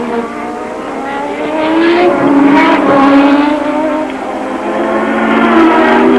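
Formula 1 cars from the 1986 Spanish Grand Prix at Jerez scream past the pits, a loud high-pitched engine note rising and falling as cars sweep by in a continuous stream.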